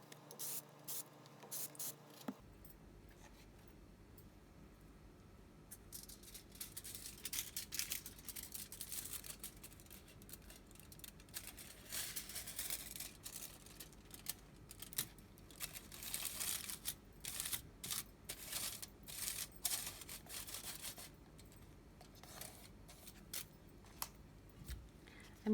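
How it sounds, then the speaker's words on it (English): Aluminium foil is handled and pressed along the sides of a DIY glam entry table, producing quiet, irregular crinkles and rustles in short bursts over a near-silent room. "And now we're going to put aluminium foil along the sides."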